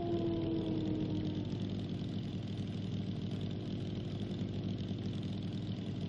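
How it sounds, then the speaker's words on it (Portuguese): A motorcycle engine in the survival game Night of the Dead runs at a steady, moderate drone with a constant low rumble and no talk over it. "Eu tava andando com a moto sem gasolina."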